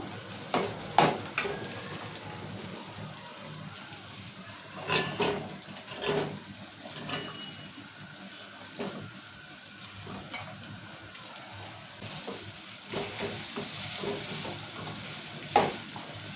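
Taro (colocasia) simmering in oil with softened tomatoes in a pan, with a low steady sizzle broken by scattered scrapes and clacks of stirring, close and alone.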